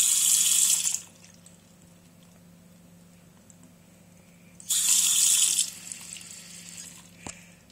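Water gushes from a tap into a standard hotel bathroom sink in two bursts, one at the start and another a few seconds later, with quiet room hum and a small clunk between them.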